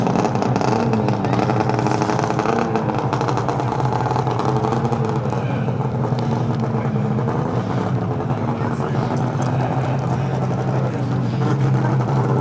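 An Arctic Cat Crossfire 800 snowmobile engine runs nearby at a snow drag event, a steady raspy two-stroke drone with slight rises in revs, blended with crowd noise and voices.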